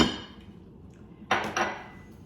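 Polenta is stirred in a pot, with two quick metallic knocks and scrapes of the spoon against the pot over a quiet background.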